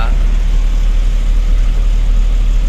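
A truck hauling a load of tomatoes idles with a faulty silencer, giving a steady, loud, low engine rumble that holds evenly and close throughout with no breaks.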